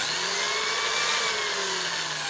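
A small electric motor driven by a logic gate circuit whines steadily and fairly loudly at close range, a high continuous hum with a slight wavering in pitch.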